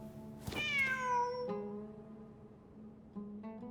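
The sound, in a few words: cat meowing in video game Genshin Impact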